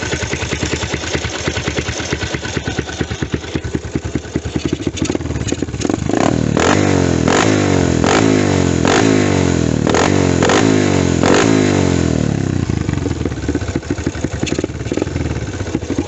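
A Spark135 motorcycle engine with a 62 mm bore idles with a rough clatter, then revs in a series of sharp throttle blips before dropping back to a steady idle.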